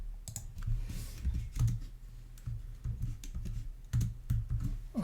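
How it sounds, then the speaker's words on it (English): Steady typing on a computer keyboard, close and fairly quiet, with irregular bursts of key clicks and a low hum underneath. "Okay, now I'm gonna type something."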